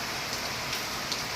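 Heavy rain pours steadily in Bhubaneswar, a dense, even hiss close by with a few louder drop splashes and no voices.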